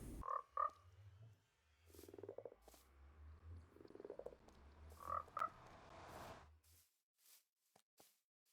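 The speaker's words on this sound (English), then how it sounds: "I'm going to get the frogs in here" Minecraft frogs croak inside a slime farm, several short, soft croaks and low gurgling calls repeating in an irregular rhythm against quiet game ambience, with no speech.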